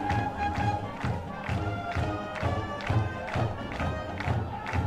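Crowd noise at a high school football game between the Jesup J-Hawks and Waukon, with a loud band nearby. Rhythmic pounding beats and claps repeat about twice a second under a broad, steady roar.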